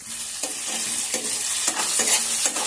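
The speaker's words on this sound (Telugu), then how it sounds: "వీటిని కూడా కాసేపు ఆ నూనెలో వేయించుకోవాలి" Green chillies fry in oil in a pan, giving a bright, continuous crackle with several sharp, evenly spaced scrapes and taps as the mixture is stirred.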